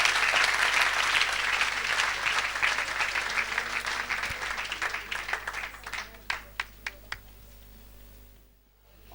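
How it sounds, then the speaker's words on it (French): Church audience applauding and cheering softly, a dense wash of clapping that thins into a few scattered claps before dying away, with faint voices underneath. "Est-ce que tu peux acclamer doucement pour Jésus?"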